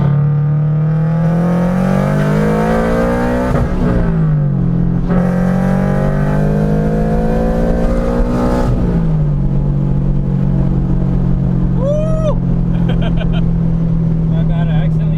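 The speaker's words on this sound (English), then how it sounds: "My bad, I accidentally bounced off limiter for a second." A turbocharged Subaru BRZ accelerates hard, its engine note climbing loudly through the revs with brief drops at shifts and a stutter as it bounces off the rev limiter, heard from inside the car with muffled voices.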